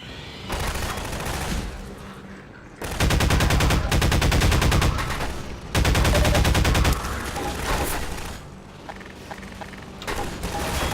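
A shotgun in Half-Life 2: Lost Coast fires in loud, dense bursts, with repeated blasts and booming echoes coming in two or three heavy stretches and quieter gaps of combat noise between them.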